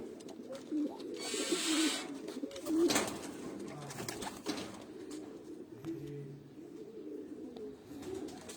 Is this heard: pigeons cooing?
yes